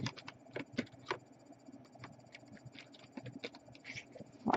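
Clicky keystrokes on a Razer Tron gaming keyboard patter close up in quick irregular bursts, soft and isolated with short pauses between runs of typing.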